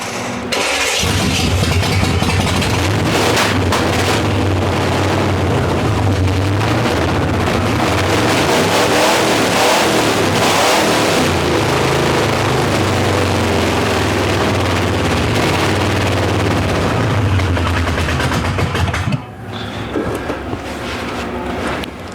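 An old Chevrolet Monte Carlo engine roars loud and close in a continuous, rough drone for nearly twenty seconds, then abruptly falls away to a quieter idle.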